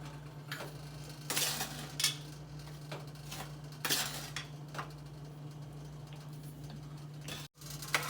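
A spoon stirs dal and sugar in a pot for a Gujarati puran poli filling, giving soft scraping strokes and occasional metal clinks against the pot's side over a low steady hum.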